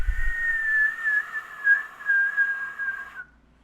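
A single high, steady whistle tone held for about three seconds, slightly wavering, then cutting off abruptly; close and moderately loud.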